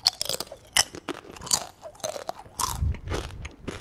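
Someone munches a crunchy cassava snack close up, with dense, irregular crisp crunches and chewing bites over a few seconds and no talk.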